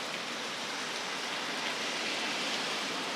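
Heavy tropical rain pours onto a flooding street in Geylang, Singapore, a dense and constant hiss of downpour close by with no pauses and no voices.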